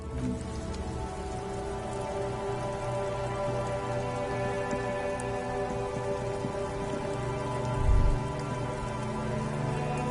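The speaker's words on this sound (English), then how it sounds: "Rain drips from the eaves and floods the gutters, washing the filth away" Steady rain patters on hard surfaces in a video game city, dripping from eaves into gutters, alongside a low, constant hum, with one brief deeper thump near the end.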